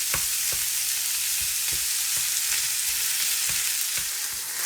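Ground beef frying in a pan, a steady close sizzle with regular clinks of a utensil stirring and breaking up the meat; no voices.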